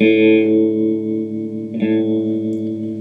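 Sustained electric guitar chords ring through an amp with a shimmering, wobbling tone; a second chord is struck partway through and left to sustain.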